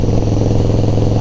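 FXR motorcycle engine idling steady and smooth up close, a loud even rumble with regular firing pulses and no misses, brief and continuous throughout.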